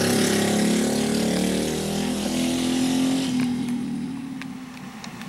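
Go-kart engines roar loudly and close on a racing track, a steady buzzing drone that fades slightly toward the end, with no voices.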